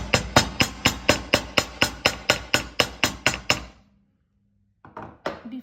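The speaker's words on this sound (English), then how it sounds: "And then this I will hammer." About fourteen sharp metallic hammer strikes on copper wire in a steady, quick rhythm, close and loud, then a pause of silence followed by a couple of softer handling clicks.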